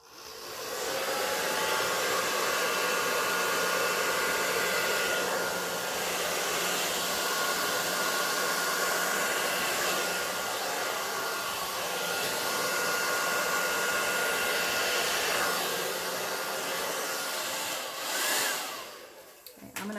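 A hair dryer on its low, cool setting blows a steady, broadband whoosh close to the listener for most of the time, easing and fluttering briefly near the end, with no talking.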